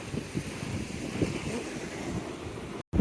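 Sea waves at Kumta beach wash in with a soft, rolling rush mixed with wind buffeting the microphone. The sound is moderate and steady, with surges of surf and a brief dropout near the end.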